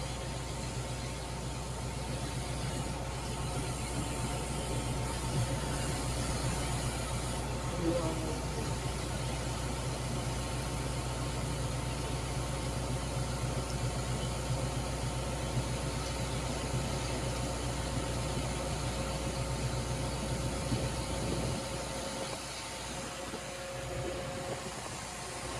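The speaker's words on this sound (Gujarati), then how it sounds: "તો વનાભાઈ વાળું ટ્રેક્ટર આવે છે" A tractor on a farm runs with a steady low engine rumble that holds for a long stretch and then eases off near the end, moderately close with no clear voices.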